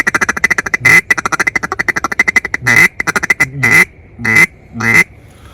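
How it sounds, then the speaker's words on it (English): A hand-blown duck call runs a fast series of rhythmic quacks, then switches to a handful of spaced, drawn-out single quacks of a lonesome hen call, loud and close with no talking. "a single quack or a lonesome hen call in the middle of that."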